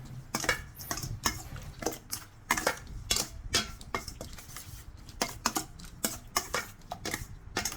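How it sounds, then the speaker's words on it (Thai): Rapid clinking and scraping of a utensil against a bowl, repeated in quick irregular strokes as garlic-fried liver marinade ingredients are stirred and tossed together. "คลุกส่วนผสมทั้งหมดให้เข้ากันให้หมดเลยนะครับ"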